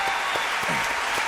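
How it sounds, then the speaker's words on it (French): A theatre audience applauds a guest being welcomed onto the stage, a dense, steady wash of many hands clapping that fills the whole stretch without pause. "Mesdames, messieurs, applaudissements pour Évar Couder, le professeur."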